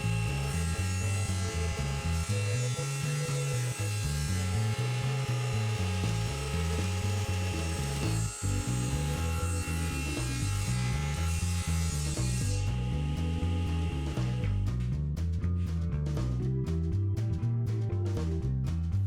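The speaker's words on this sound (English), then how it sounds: "I'm drilling and countersinking one side of the runner." A steady high-pitched power drill whir drilling and countersinking a wooden runner, with a pulsing, rhythmic drone, then a rougher grinding stretch near the end, close and continuous.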